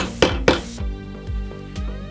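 A nylon hammer gives a pistol's night sight two sharp, close taps on a Smith & Wesson M&P slide, followed by a few softer knocks against a ringing, metallic background.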